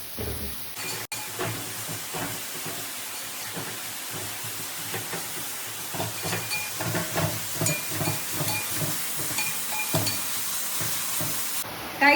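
Onions sizzle in a hot pan while being stirred, a continuous crackling hiss with scraping strokes throughout, no one speaking.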